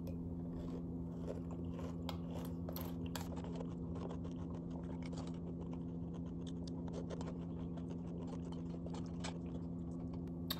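Close, soft crunching and chewing of Mini Wheats cereal with oat milk, a steady run of small bites and mastication over a low constant hum, with no talking.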